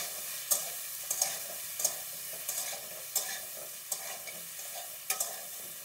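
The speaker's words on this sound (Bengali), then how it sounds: "লবণ ছাড়াই ভেজে নেব" Potato and pointed gourd pieces fry with turmeric in a pan, giving a faint, steady sizzle broken by soft scraping stirs roughly every second.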